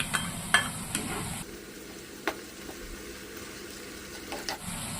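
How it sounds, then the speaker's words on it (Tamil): Green chillies and curry leaves fry in hot oil for a prawn curry with a soft, steady sizzle, with occasional clicks and scrapes from stirring. "இப்போ பச்சை மிளகாயும் கருவேப்பிலையும் சேர்த்து எண்ணெயில் வதக்கிக்கிடுவோம்"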